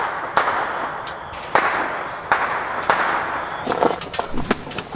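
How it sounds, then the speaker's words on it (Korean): Firecrackers go off nearby at a solo campsite in the mountains: several sharp, loud bangs at irregular intervals, each with a short echo, ending in a quicker cluster of cracks. "근처에서 누가 폭죽 터트렸나봐요."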